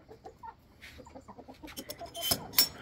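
Hens cluck in a chicken run in a Santa Cruz forest setting, with repeated short clucks close by and a few sharper squawks and rustles building toward the end.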